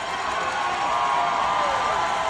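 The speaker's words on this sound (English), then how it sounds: "And the Prowlers fans will cheer that one." Hockey crowd at an ice rink cheering as a player is sent off, a steady roar of many voices filling the arena without a break.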